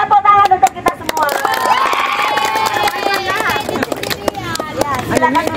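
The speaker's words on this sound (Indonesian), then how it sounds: "tepuk tangan untuk kita semua" Students at a school leadership training session clap together in bursts of group applause, mixed with chatter and voices talking over the clapping.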